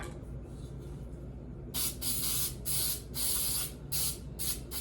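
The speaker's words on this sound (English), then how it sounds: "I'm gonna spray my pan." Cooking spray hisses onto a baking pan in several short bursts of varying length, close and fairly loud, after a quiet stretch.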